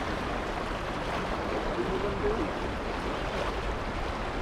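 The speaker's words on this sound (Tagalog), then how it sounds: "Lakas ng agos." Strong river current during fishing, a dense, continuous rushing wash of water that stays even and fairly faint throughout, with no clear voices.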